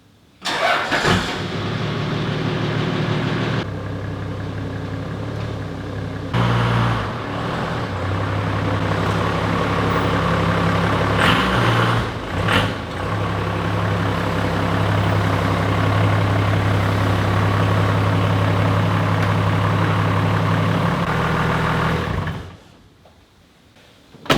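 Toyota Landcruiser engine idling steadily and loud as the vehicle drives into a shed, with a lower rumbling stretch in the middle before the engine cuts off near the end.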